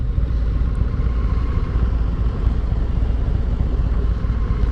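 A 2023 Harley-Davidson Road King motorcycle engine rumbles loud and steady during a test ride, a dense low throb with wind roar that stays constant and close without pause, no voices over it.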